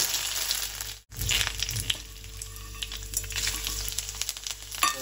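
Finely chopped onion goes into hot oil with whole spices such as bay leaf and cinnamon for a pulao. After a brief dropout, a loud crackling sizzle bursts up and keeps spitting close by.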